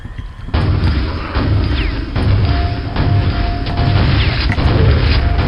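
Spike shooter traps in Quake's Castle of the Damned fire with mechanical clanks and thuds over a dense, loud ambient rumble, with a few sharp impacts scattered through.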